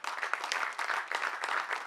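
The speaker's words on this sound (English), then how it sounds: "Shall we clap for him?" Audience at an Africa dancing festival in Finland applauding for Martin, a brief burst of lively, close hand clapping with uneven rhythm and no voices over it.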